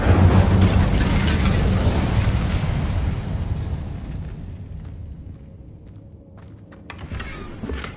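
Incendio fire spell cast in Hogwarts Legacy, a loud roaring whoosh of flame that bursts at once and slowly fades over several seconds, with a faint tonal hum and a few small crackles toward the end.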